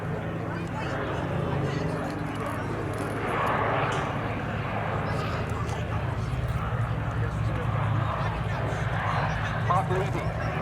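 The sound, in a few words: P-47 Thunderbolt aircraft landing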